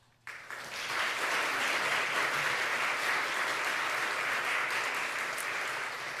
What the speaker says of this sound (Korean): 큰 박수로 두 분을 맞아주시면 좋겠습니다